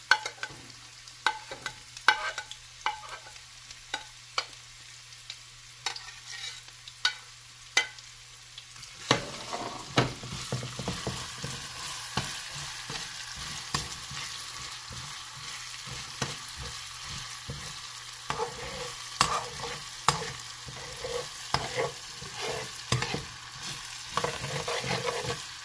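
Ginger pieces sauté in a pan for beef papaitan, first a few separate stirring clinks, then a steady close sizzle and frying crackle joined by ongoing scraping stirs.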